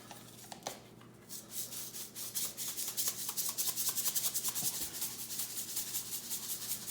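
Coarse kosher salt sprinkled over trimmed filet mignon, a close, steady gritty patter and rustle that grows denser after the first second, with no talking.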